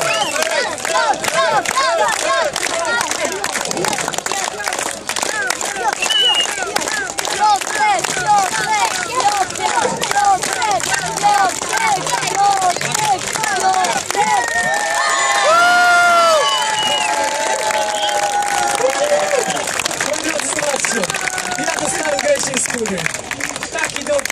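A large crowd at an outdoor stage event in Jaworzna shouts, cheers and claps continuously, a loud dense roar of many voices with rising whoops, while an announcer speaks over it.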